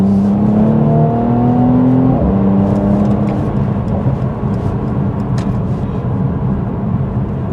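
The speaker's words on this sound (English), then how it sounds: "Love those rumbles and that V6 sound." A 400 hp Mercedes-AMG C43's V6 rumbles loudly from inside the car in traffic, with a rising rev early on that swells and then settles back into a steady engine drone.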